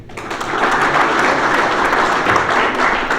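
An audience at an award ceremony honoring officials in Baroda, Rajasthan gives loud, sustained applause, a thick continuous roar of clapping from start to finish.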